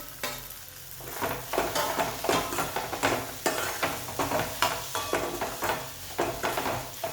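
Finely chopped potato fries in spiced oil for puri bhaji while a spoon stirs it in rhythmic scraping strokes. A soft sizzle sits underneath, fairly quiet and close, with no talking.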